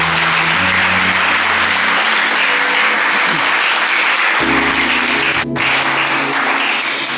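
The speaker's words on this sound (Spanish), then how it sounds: "Dele ese aplauso al Señor." A church congregation applauds during a sermon, steady dense clapping filling the room throughout, with low held organ or keyboard tones underneath and a brief dropout near the end.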